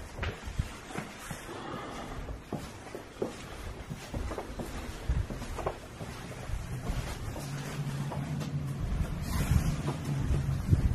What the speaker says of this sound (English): Creepy noise that you heard right now, we're hearing right now, guys, is actually the wind.